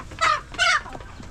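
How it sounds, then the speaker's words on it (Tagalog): Chickens in a coop give two short, bright clucking calls close by, separated by a brief pause, with faint farmyard rustle underneath. "Ayan yung mga manok natin."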